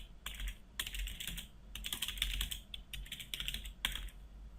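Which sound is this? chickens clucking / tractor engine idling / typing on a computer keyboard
typing on a computer keyboard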